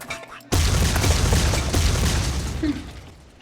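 Grenade explosions in Ace of Spades erupt with a sudden loud boom after a quiet moment, followed by a sustained rumbling roar and crackle that slowly fades away.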